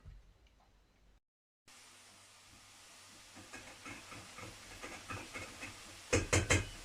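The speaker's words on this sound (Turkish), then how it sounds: "Şurada çocuklara biraz pommes kızartıyorum." Hissing, crackling sizzle of french fries frying in hot oil, with a few sharp clatters near the end; fairly quiet and close.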